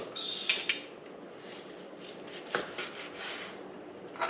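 Knife slicing a cooked steak on a plate, with a few sharp metallic clinks of cutlery and soft sawing scrapes in between, close and moderately loud.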